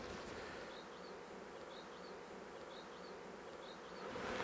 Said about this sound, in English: a few wasps that are trying to sneak in here